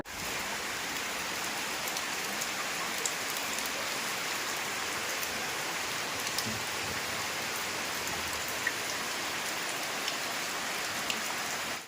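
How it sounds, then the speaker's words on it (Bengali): Heavy rain during a monsoon low-pressure spell, a dense, steady hiss of drops pattering on surfaces that runs evenly and unbroken throughout, with no voices. "কাল থেকেই সারাদিন ধরে বৃষ্টি হচ্ছে"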